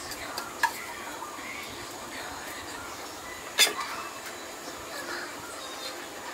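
A spoon stirs papaya curry with minced pork in a pot: a soft, faint scraping swirl under low background noise, broken by two brief metallic clinks against the pot.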